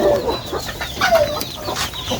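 Farm chickens and breeder hens cluck in short, scattered calls at close range, with a few higher squawks over a steady rural background.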